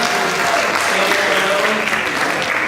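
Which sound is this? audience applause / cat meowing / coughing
audience applause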